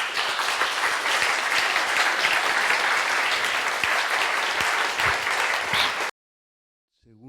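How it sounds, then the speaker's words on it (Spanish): An audience at a talk applauds a visiting professor with a strong, steady round of clapping lasting about six seconds, then cut abruptly to silence before a voice starts faintly at the very end. "a la profesora Barbara Taylor Brown le diéramos un fuerte aplauso."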